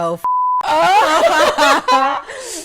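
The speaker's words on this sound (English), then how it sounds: "there's gonna be a lot of beeps in this episode." A short, flat censor beep cuts into a person's speech, and the talking carries on right after it.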